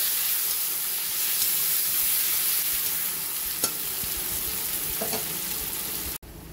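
Thinly sliced medium onion frying in hot oil with cinnamon, a steady loud sizzle with a few stirring scrapes and clinks, continuous throughout.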